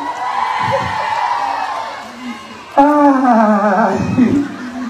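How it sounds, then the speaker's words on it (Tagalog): Crowd at an outdoor Nutrition Month grand rally and awarding ceremony in the rain bursts into whooping and yelling, loud and close, over a steady background murmur. "Ay, may kasamang sigawan!"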